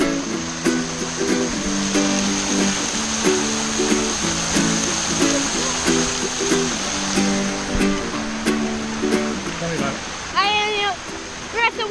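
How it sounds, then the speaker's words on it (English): Water roars steadily over a waterfall in Rio Dulce's Boqueron Canyon, Guatemala, a loud, continuous rush with brief voices near the end. "We're at the waterfall."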